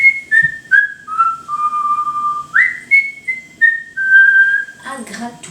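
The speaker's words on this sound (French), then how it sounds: "voilà que le petit commence à siffloter" Someone whistles a cheerful melody of sustained, sliding notes in short phrases, close and clear, ending with a brief rustle.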